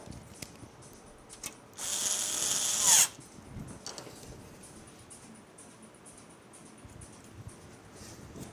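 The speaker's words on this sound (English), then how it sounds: "Get to start getting these screws in really quick." Screws being driven into a PC case during an mATX build, a single loud whirring burst of a powered screwdriver lasting about a second, set among quiet clicks and handling noises.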